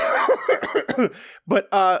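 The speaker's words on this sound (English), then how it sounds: "As you hear, I still have a bad cough." Several harsh coughs come in quick succession, loud and close, followed by a rougher throaty burst near the end.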